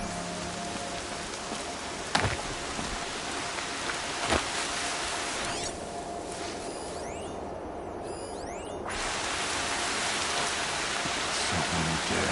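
Steady rain in Horizon Zero Dawn pours down in a constant hiss, with a couple of sharp drip or tap accents early on and the downpour thickening near the end.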